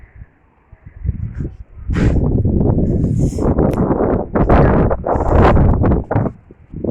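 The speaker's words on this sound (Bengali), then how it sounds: "প্রচুর হাওয়া দিচ্ছে।" Strong wind buffets the microphone in loud, rumbling gusts that swell and roar almost without pause after a quiet start.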